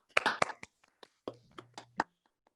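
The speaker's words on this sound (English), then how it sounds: "And maybe everybody could unmute for one moment and we could all clap and welcome Amit Majmudar." Scattered, uneven claps from a few online audience members who have unmuted on a virtual reading call, sparse and fairly close, with a short vocal murmur mixed in.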